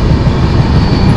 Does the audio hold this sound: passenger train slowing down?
yes